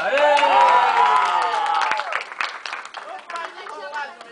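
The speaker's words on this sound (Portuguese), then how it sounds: "a salva de palmas de novo para a aliança" A crowd at a country-style mock wedding applauds and cheers for the ring, with loud whoops and shouting voices at first, then lively clapping mixed with chatter.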